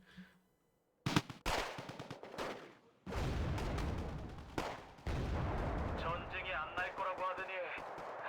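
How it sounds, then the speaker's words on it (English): Machine gun fire in a World War II video game, heavy bursts of automatic shots and booming impacts after a brief quiet start, loud and sustained with a player talking over the action. "you're getting shot at by the MG."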